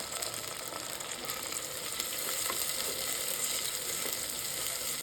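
Steady sizzling and crackling of chopped tomatoes sautéing in oil in a clay pot, with occasional soft stirring sounds and no talking.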